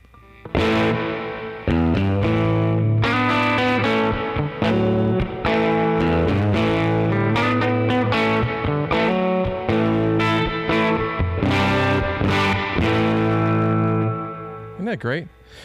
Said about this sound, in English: Let's add a little spring reverb.